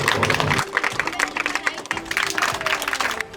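A studio audience claps steadily through the whole stretch, a dense, even patter of many hands with a few brief dips, while a voice talks over it at times.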